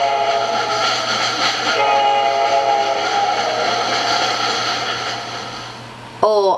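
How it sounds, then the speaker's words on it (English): A recorded train sound played from a children's sound book: a continuous rumbling train with a long, wavering whistle tone running throughout, loud and near, ending in a sudden sharp click. "And we can hear the train too."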